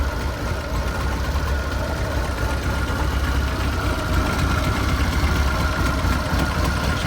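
A cold-started 1982 VW Golf GTI Mk1 1.8 engine idles steadily with a low, even rumble and a faint mechanical ticking, continuous and close, with no voices.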